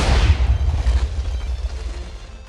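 A TNT charge fired from a cannon in a block-building game detonates in a loud, close boom with a deep low rumble that fades over a couple of seconds.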